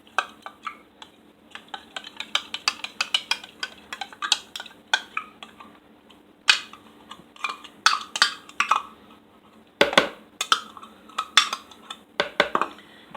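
A utensil stirs coleslaw dressed with heavy cream in a bowl, making rapid, irregular scraping and clinking strokes that come in bunches with short pauses between them, close up and with no one speaking.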